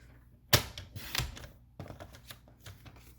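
Close, crisp cuts through a 2-inch strip of cardstock during a card-making class, a sharp snap followed by a second slice and lighter scraping clicks as the paper is trimmed.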